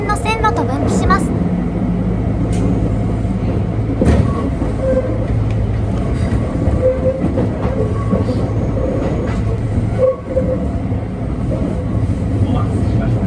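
A two-car Kintetsu electric train rumbles steadily after departing Kawachi-Yamamoto Station, with clattering wheels and mechanical hum, loud and close throughout, as if riding aboard the moving railcar.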